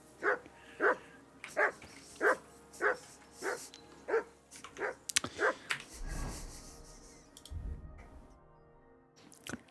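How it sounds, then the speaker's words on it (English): A dog barks in the video game Kingdom Come: Deliverance 2, a steady series of about nine sharp, evenly spaced barks followed by thuds and rustling. "Henry, that barking's driving me nuts. Can you get your dog to shut its beak?"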